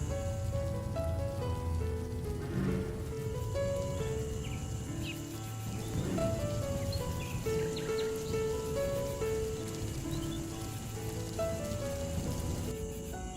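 Rain falls with a soft, steady patter, heard faintly beneath gentle, slow melodic music that carries through the whole span.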